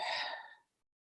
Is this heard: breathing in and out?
yes